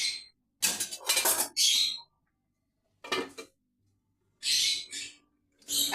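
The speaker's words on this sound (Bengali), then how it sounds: "কিন্তু মাঝে মধ্যে এইভাবে করে ওপর নিচে করে একবারটি নেড়ে দিতে হবে বন্ধুরা, নাহলে কড়ার নিচে ধরে যেতে পারে" Metal spoon stirring and scraping food in a kadai, a wok-like pan, in bursts of clattering, scraping strokes separated by quiet pauses, close and fairly clear.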